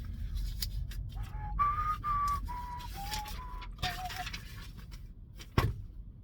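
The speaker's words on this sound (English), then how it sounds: "I was whistling a song I was listening to earlier" Someone whistles a short melody close by, a series of clear sustained notes shifting in pitch, with a soft low rumble underneath.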